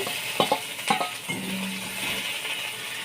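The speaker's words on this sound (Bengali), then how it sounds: "কড়াইতে তেল দিয়েছি সামান্য তেল এখানে দেখুন আদা রসুন পেঁয়াজ কিমা করে নিয়েছি এটা দিয়ে দেবো" Minced ginger, garlic and onion fry in a little oil in a wok, a soft sizzle under a few sharp utensil clinks and stirring scrapes near the start, then a steady hiss.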